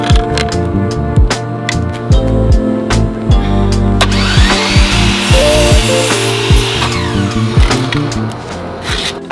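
A saw makes an angled cut across the top of a wooden 1x2 side rail during a bedroom build. Loud, close cutting comes in rapid repeated strokes with ringing tool tones.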